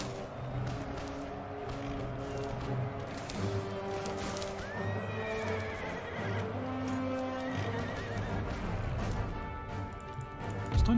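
Ottoman heavy cavalry horses charging downhill into Russian infantry in Empire Total War, with loud repeated neighs and whinnies over a rumbling mass of hooves and battle din, sustained throughout.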